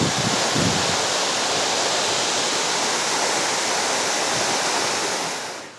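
A waterfall roars steadily and close, a dense unbroken rush of falling water that holds the same level throughout before easing slightly at the very end.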